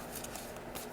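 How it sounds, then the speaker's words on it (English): Tarot cards are shuffled by hand in a brief, quiet burst of soft papery riffling and flicking, close up with no voices. "I have such a hard time shuffling these cards."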